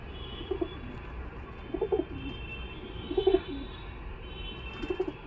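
Golden Madras pigeon cooing in repeated short bursts of soft, throaty coos at a steady pace, fairly close, over a faint background hum.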